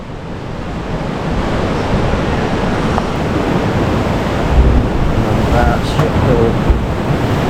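Ocean surf rolls in at Suluban Beach in Uluwatu, Bali, a loud, continuous wash of waves buffeted by wind noise. A few faint knocks and shifts sit under the steady roar.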